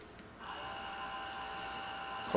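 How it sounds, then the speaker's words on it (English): A small DC motor driven through an H-bridge by a PIC16F628A microcontroller starts up after a brief quiet moment. It settles into a faint steady whine with a sharper sound right at the end. "So, let's cut on the motor."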